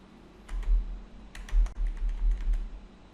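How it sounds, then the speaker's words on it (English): Code is typed on a computer keyboard in quick irregular bursts of close, crisp key clicks, with short pauses between flurries in a quiet room. "I think using my keyboard is far better for copying this code."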